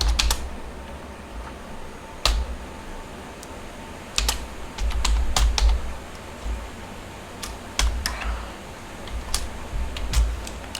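Python code typed on a computer keyboard: bursts of quick, crisp key clicks with pauses between runs, close and moderately loud over a faint room hum, no talking.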